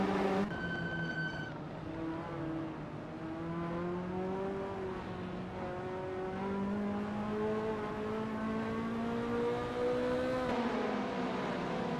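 Ferrari F40 race car engines at the Kyalami '67 circuit in a racing video game, several cars droning and revving steadily together, pitches rising and shifting through the gears in a continuous loud pack.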